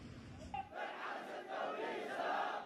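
Vast crowds gathered in the streets of Yemen chant together, a dense roar of many voices that swells after a brief pause and holds steady and loud throughout.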